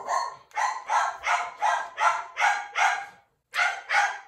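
A dog barks close by in a steady run of about ten sharp barks, pauses briefly, then barks twice more.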